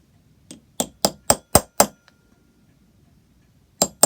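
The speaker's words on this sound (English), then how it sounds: "riveted through that wheel at the back, so hopefully I can just hammer that over a bit to make it a bit tighter" Hammer blows on a rivet through the wheel of an old pig bell under restoration: five sharp metallic strikes in quick succession, a pause, then two more, close and ringing.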